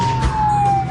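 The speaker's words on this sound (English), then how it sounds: "Give him a touch of the siren." A police car siren is given a brief touch during a motorbike pursuit in a radio drama, a loud, close, steady wailing tone over engine rumble.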